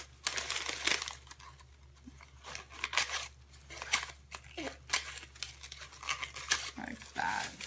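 Scissors snip repeatedly through a paper goodie bag, cutting all the way around the opening to make a witch's broomstick craft; crisp, close cuts and paper crinkles come in short irregular bursts over a low steady hum.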